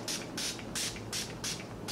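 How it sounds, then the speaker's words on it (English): Makeup setting spray misted onto a face in five quick, evenly spaced pumps, each a short, close, airy hiss with brief pauses between. "make sure your setting spray is completely dry"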